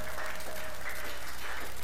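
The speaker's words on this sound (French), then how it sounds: "Est-ce qu'on peut acclamer le Seigneur?" A church congregation claps to acclaim the Lord, brief rhythmic applause from a crowd in a worship service, moderately loud and heard alone.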